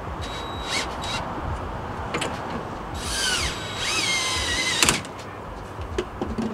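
Power drill tightening bolts on a Hooke Road overland bed rack fitted to a Jeep Gladiator, with a close, steady whirring run that rises in pitch in bursts and ends with a sharp clack near the end.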